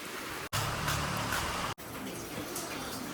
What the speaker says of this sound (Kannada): ಈಗ ಮಳೆ ಬರ್ತೈತೆ ಇಲ್ವೋ